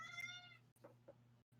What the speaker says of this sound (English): Would you leave the cat alone?